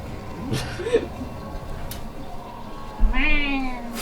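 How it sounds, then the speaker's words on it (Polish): A real cat in an apartment meows a few times, the last cry louder and drawn out, heard close over the quieter sounds of a horror game being played. "Tak, usłyszałem kota, ale nie w grze."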